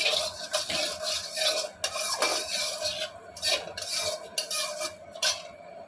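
Dal being stirred in a pot with a metal spoon after tempering spices are added, giving repeated scraping and rasping strokes against the pan in an uneven rhythm over a soft sizzle, close and moderately loud.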